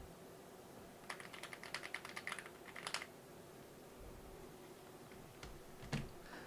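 Quiet, soft clacking of a compact, non-full-size keyboard with creamy-sounding keys, typed in short bursts of keystrokes separated by pauses, close and faint with no talking.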